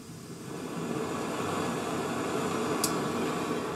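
A penny stove burning on high heat gives a steady soft roaring hiss, a continuous even rush close by, with no voices.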